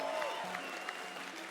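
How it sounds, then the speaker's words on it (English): Faint, distant applause from an audience for two players at a 1v1 game tournament, a soft, even patter of clapping with a voice briefly audible underneath. "Please give these two amazing players a major round of applause."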